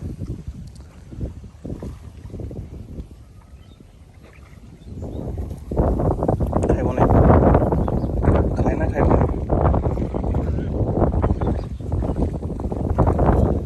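Wind gusting across open water at a fishing spot on a wetland under gathering rain clouds, rumbling into the microphone and swelling stronger midway, with people talking over it.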